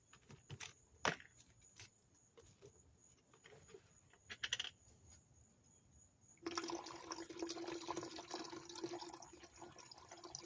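Muriatic acid is poured into a small container of gold-bearing cellphone scrap, a steady liquid gush starting partway through after scattered clinks and handling sounds, close and fairly quiet.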